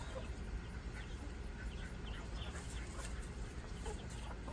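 Backyard chickens, layers and meat birds of about the same age, clucking softly and fairly faintly amid steady outdoor noise, with occasional short calls and a little background voice.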